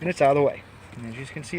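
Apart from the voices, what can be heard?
None of the usual background noises is heard.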